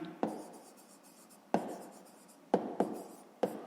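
A pen writing by hand in a school maths notebook gives soft, close scratching. Five sharp taps mark the start of new strokes against a quiet background.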